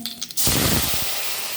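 Ground masala paste hits a hot pan of oil with fenugreek and curry leaves for a Kerala toddy-shop style red snapper curry, bursting into a loud, steady sizzle that holds after a quieter start.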